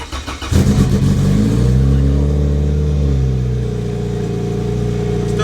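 Turbocharged Honda Civic engine cranking briefly, then catching and settling into a loud, steady idle with a rising then easing rev, close up.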